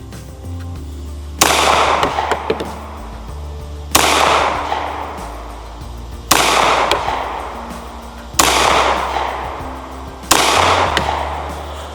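Five sharp, loud gunshots from a Wilson Combat SFX9 9mm pistol during a range shooting test, spaced roughly two seconds apart, each with a short echoing tail.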